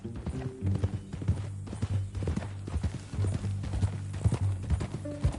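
Horse hooves clip-clopping in a steady walking rhythm in the video game Red Dead Redemption II, close and clear, with faint tonal background music underneath.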